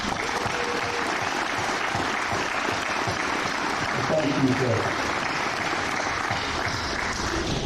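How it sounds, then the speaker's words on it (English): Audience applause at a high school graduation ceremony in Hot Springs, Montana, a steady crowd clapping that runs throughout, with a brief spoken thanks over it. "Please join me in honoring him with a tremendous round of applause."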